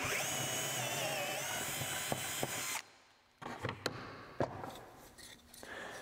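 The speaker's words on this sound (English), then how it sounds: "Let me go ahead and make a quick drill." A high-pitched power drill whines steadily for a few seconds while boring pocket holes in window casing with a Kreg Jig, then stops; a few sharp clicks and knocks of handling follow in quieter surroundings.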